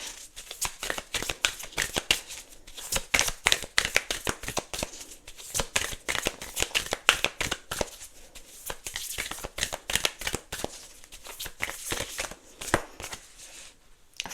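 A Moonology oracle card deck is shuffled over and over, quick papery riffles and flicks coming in dense, irregular bursts, close and alone with no talk.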